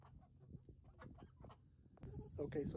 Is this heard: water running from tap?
no